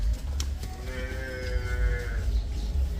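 A cow calf gives a single drawn-out moo, fairly close and clear, over a low rumble of farmyard background.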